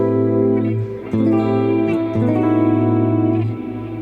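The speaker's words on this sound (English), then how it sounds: "I have something drenched with reverb and delay here." Electric guitar soaked in heavy reverb and delay: sustained chords ring and overlap in a lush wash for about four seconds, played alone and close with no voices.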